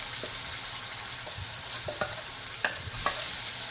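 Ground spice paste and tomato sauté in a pan with a steady close sizzle, while a spoon scrapes and taps against the pan at irregular intervals.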